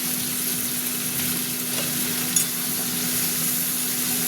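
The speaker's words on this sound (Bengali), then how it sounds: "এবার টমেটোটা দিয়ে দিচ্ছি।" Chopped tomato goes into a pan already frying potato and prawns for a pointed gourd prawn curry, a steady close sizzle with a soft stirring scrape partway through.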